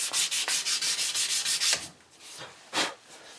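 Sandpaper at 400 grit rubs rapidly back and forth over a natural, unstabilised wood knife handle, about a dozen quick close strokes in steady rhythm, then a pause and a few slower, scattered strokes.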